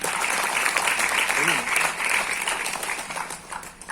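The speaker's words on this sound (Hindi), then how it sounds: "उनके लिए जोरदार तालियां।" An audience at a business achievers' event breaks into loud, sustained applause, a dense wash of clapping that continues steadily and begins to fade toward the end.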